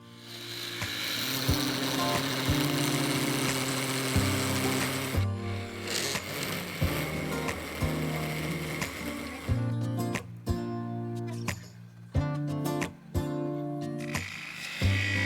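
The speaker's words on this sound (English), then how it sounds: "Then using the parting tool, I cut down into the segments to expose what I hoped would be transparent resin in the" A lathe spins a segmented wood and resin bowl as a parting tool cuts into it, giving a loud, continuous grinding drone that breaks up into intermittent scraping bursts and pauses toward the end.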